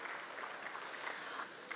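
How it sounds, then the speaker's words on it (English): Applause at a company listing ceremony on the National Stock Exchange in India, a brief burst of dense, even clapping from an indoor audience. "So one more big round of applause to Euro Foods India Limited for this."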